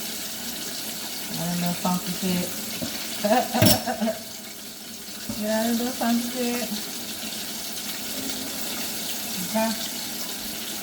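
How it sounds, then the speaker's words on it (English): Water runs from a kitchen tap for hand washing between steps of frying pickles, a steady splashing stream with brief clatters, heard under casual talk. "Wash my hands."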